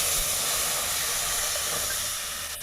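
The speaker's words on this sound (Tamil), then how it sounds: "இது நல்லா கொதிக்கட்டும்." A constant broadband hiss of tamarind water boiling vigorously in a pot, close and steady, fading slightly at the end.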